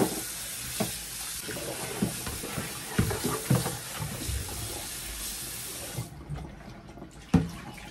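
Tap water runs steadily over meat being washed in a sink, with splashing and handling bursts, then the flow cuts off near the end before a final clunk.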